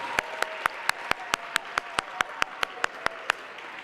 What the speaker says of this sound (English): Another round of applause for all of our recipients